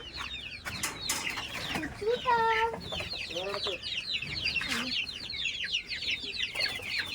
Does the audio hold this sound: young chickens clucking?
yes